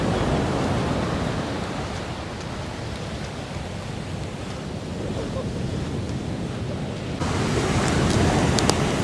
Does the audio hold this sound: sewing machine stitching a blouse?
no